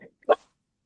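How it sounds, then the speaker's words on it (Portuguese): A small dog gives a single sharp bark at moderate distance, preceded by a faint brief yip, then silence. "vou tirar esse desgramadinho desse cachorrinho daqui, que ele está latindo demais"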